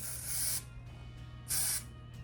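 Two bursts of hairspray from an aerosol can, a longer hiss followed after a pause by a shorter one, close and loud with no talking.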